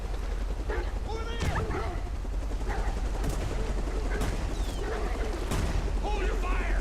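Gunfire in the game Beyond: Two Souls comes as sharp shots scattered through a busy, noisy scene, with yelping and shouting voices mixed in and chaotic activity continuing throughout.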